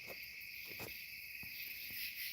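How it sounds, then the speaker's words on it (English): Cicadas buzz outdoors in a continuous high, even drone that fills the whole stretch, with a few soft clicks and taps underneath and no talking. "Hope you can hear me over the cicadas."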